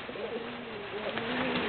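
Tinggian tomprang pigeons cooing in a loft, several overlapping low throaty coos rolling continuously, close and moderately loud over a steady background hum.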